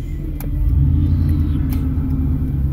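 Steady low engine rumble heard from inside a truck cab while riding, continuous and fairly loud with no talking.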